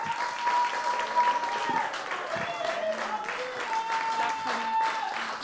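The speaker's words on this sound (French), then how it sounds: "vous demande de une acclamation à Marie Lavitte, s'il vous plaît." A studio audience on a Mediterranean TV talk show applauds a guest, a steady wash of clapping with cheering voices and a sustained tone running through, fairly loud and continuous for several seconds.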